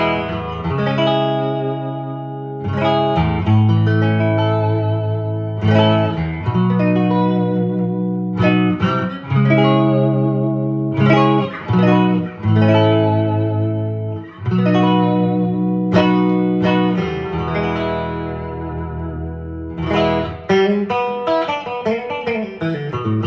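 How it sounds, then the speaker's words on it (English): A 1966 Fender Jaguar electric guitar with both pickups engaged plays chords and melodic lines with a warm, bright tone and touch of effects, loud and alone, notes ringing and decaying between strums. "we have this very cool 1966 Fender Jaguar, blocks and binding sunburst finish"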